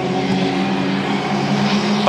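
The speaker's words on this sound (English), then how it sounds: "Curtis Peel in the Nashies Produce, number 11" Junior sedan race cars roar around the track at Bundaberg Motorplex in a final, a loud sustained engine drone with layered revving tones, heard under a commentator's fast speech.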